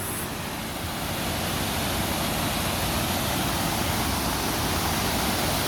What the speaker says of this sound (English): here's the pretty waterfall with all the water in this